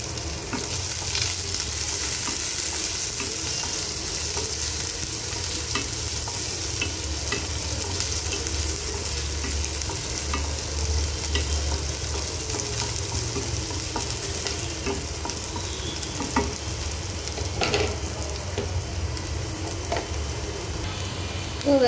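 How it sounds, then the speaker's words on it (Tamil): Chopped onions and green chilies sauté in a pan for rava upma, a continuous crackling sizzle with stirring scrapes and occasional louder pops, close and steady throughout. "இது கூடவே பொடியாக கட் பண்ண பச்சை மிளகாய், இது எல்லாத்தையும் சேர்த்து நல்லா வதக்கிக்கலாம்."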